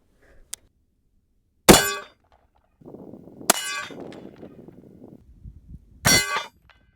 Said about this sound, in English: Justin hit the plate down here low